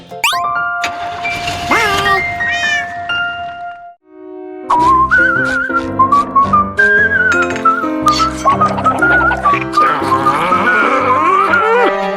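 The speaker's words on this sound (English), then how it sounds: "That whistling is driving me crazy!" A cartoon whistling tune plays loud and close, starting with chimes and sliding tones, then after a short gap a steady melodic whistle continues over music, with a voice speaking partway through.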